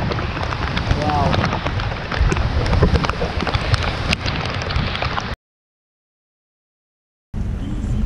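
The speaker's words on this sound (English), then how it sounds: "It's so good to be in the rain." Heavy rain pours during a stormy day, a dense, constant roaring hiss that cuts to silence for about two seconds before returning.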